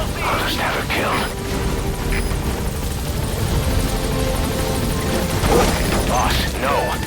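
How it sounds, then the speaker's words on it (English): Extraction helicopter from Metal Gear Solid V arrives with a steady rotor drone under game dialogue and radio voices, the engine noise holding constant throughout. "I'll send the extraction chopper."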